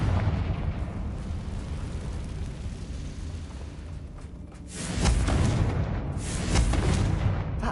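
A Confringo spell blast from the Hogwarts Legacy video game, with a steady low rumble that swells into two loud, broad explosive bursts near the end.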